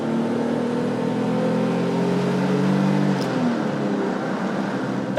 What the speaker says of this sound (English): the engine has an insane amount of induction noise that you can hear from inside the cabin and outside as well